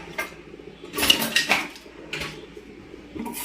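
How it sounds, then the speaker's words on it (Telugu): Mustard seeds dry-roasted lightly in a pan while a Nellore fish curry is cooked, giving scattered metallic clinks and scrapes of utensil against the pan, with bursts of louder stirring, up close. "ఆవాలు ఇలా తీసుకొని దోరగా, మరీ ఎక్కువగా కాకుండా దోరగా ఫ్రై చేసుకొని పొడి చేసుకోవాలి."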